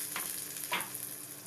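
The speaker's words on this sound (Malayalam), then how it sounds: "വട്ടത്തിലരിഞ്ഞത് ചേർത്ത് നല്ലതുപോലെ ഒന്ന് ഫ്രൈ ചെയ്തെടുക്കാം." Sliced shallots fry in oil with popped mustard seeds, a soft continuous sizzle broken by two brief scraping stirs near the start, close and fairly quiet without speech.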